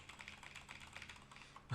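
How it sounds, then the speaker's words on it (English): Rapid clattering keystrokes on a loud clicky keyboard, a steady close stream of clicks ending in a slightly heavier tap. "This keyboard's too loud for my taste. I hate clicky keyboards."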